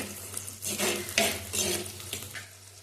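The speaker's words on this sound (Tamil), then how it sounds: "பூண்டு சேர்த்துக்கலாம் வெங்காயம் ஒன்று சேர்த்துக்கிட்டேன் நல்லா வதக்கி விட்டுக்கலாம்" Onion and garlic sautéing in oil for a fish curry, a loud crackling sizzle that swells in bursts as the pan is stirred, with scraping of a spoon and no voices.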